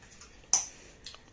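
A dog bites into a hard chew treat from a farm-themed treat box, giving one sharp crunch followed by a fainter second crack, quiet and close.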